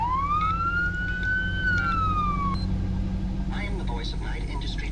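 A police siren on a limited event car in the Roblox game Greenville gives a single rising and falling wail that fades out after about two seconds, over steady background hum, followed by brief clicks.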